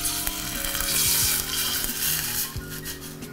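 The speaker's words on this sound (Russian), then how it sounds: "Добавляем 250 грамм белого вина." White wine poured into hot oil with garlic in a pan for Swiss fondue, giving a loud, continuous close sizzle and crackle with faint stirring clinks throughout.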